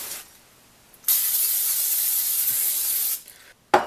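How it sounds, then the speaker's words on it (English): Butter spray hisses from a can onto hands in one steady burst of about two seconds, close and loud, followed by a short second spurt after a brief gap. "Then I'm going to butter spray my hands and then try and pick it up"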